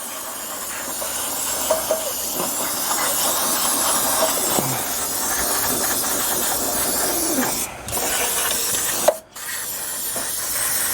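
An aerosol can of cleaner sprays steadily onto car parts, a long close hiss broken by brief pauses near the end.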